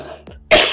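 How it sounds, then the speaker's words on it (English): A single sharp, close cough bursts out abruptly after a short faint throat sound, loud and brief in a quiet room. "That made me cough."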